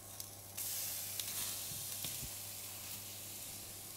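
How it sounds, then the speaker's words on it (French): Onion slices searing in a hot pan with a little oil, a steady bright sizzle with a few soft clacks and stirring knocks, close and alone. "Maintenant, je vais marquer quelques tranches d'oignons."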